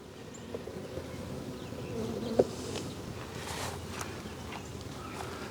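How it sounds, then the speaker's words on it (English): Bees inside a packed beehive while frames are lifted, giving a soft, constant buzzing hum with occasional faint knocks and handling clicks nearby, no voices. "there's a lot of bees down there"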